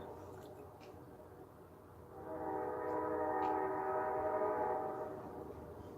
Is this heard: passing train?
yes